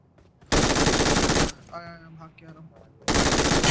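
Automatic gunfire in the mobile battle-royale game BGMI, two long loud sustained bursts at the start and end, with quieter game effects and tones between them.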